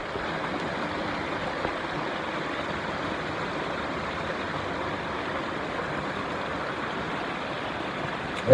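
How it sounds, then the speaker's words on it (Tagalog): A waterfall in the forest of Mount Banahaw gives off a steady, unbroken rush of falling water that stays even and fairly loud throughout, with no voices. "Waterfalls, magalit sa tubig. Sa talon, dito."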